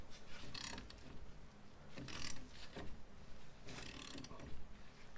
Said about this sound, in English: And start tightening the clamp.